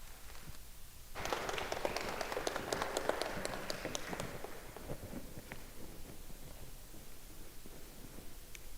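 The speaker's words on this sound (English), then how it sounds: "Let's give a round of applause for Mercedes Yardley." An audience at a college convocation breaks into applause for a speaker: a burst of many hands clapping that swells suddenly, holds for about three seconds, then thins out to scattered claps and a quiet room, fairly faint and distant.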